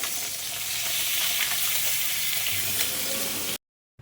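Pabda fish fry in hot oil with a dense, steady sizzle and crackling spatter that stays close and fairly loud, then cut off abruptly into silence near the end.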